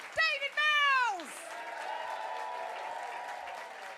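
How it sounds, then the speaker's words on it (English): Applause from a stand-up comedy audience at the Komedia in Brighton follows a brief loud tonal burst, then settles into a steady, moderately distant clapping wash. "Start your clapping and your cheering right now."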